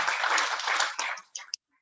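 A burst of applause from a crowd, steady for about a second, then thinning to a few scattered claps before falling silent.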